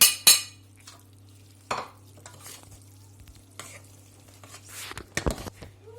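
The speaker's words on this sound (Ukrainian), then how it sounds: "До готових спагетті додаємо зроблену начинку і перемішуємо." Cooked spaghetti being stirred together with a basil, cheese and tomato filling, with scraping utensil strokes and clinks against the pan over a light sizzle, loudest at the start and near the end.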